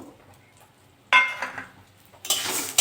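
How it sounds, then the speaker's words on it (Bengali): Lentils for dal drop into hot mustard oil in a wok, with a sudden crackle, a short stir, then a louder, sustained hissing sizzle near the end. "ডালটা একটু ভেজে নেব"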